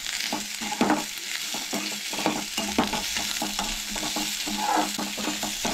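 Onion sautéing in a pan, a close, continuous sizzle punctuated by regular scraping stirs of a spoon against the pan.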